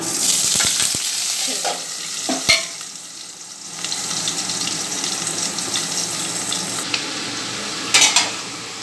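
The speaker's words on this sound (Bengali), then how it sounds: "তেলটা গরম হয়ে গেছে। এই এখন আমি আলুগুলো ভাজার জন্য" Potatoes frying in hot oil on a home kitchen stove, a steady sizzle with sharp clatters of stirring and a few louder spattering bursts.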